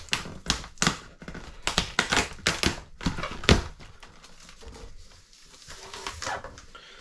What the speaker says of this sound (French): je vais enlever les scotch